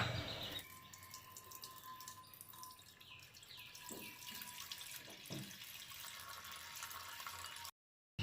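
Milk pours into a pan for payesh, a soft continuous liquid stream running close by and fairly faint, with a few light knocks and no speech.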